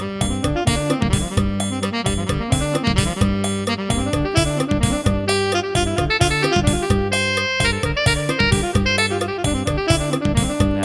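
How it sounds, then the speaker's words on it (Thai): A synthesized tenor saxophone voice on a Casio CTK-671 electronic keyboard plays a melody over a busy keyboard backing with a steady beat, continuous and close. "เสียงแซกโซโฟนครับผมที่สามครับ"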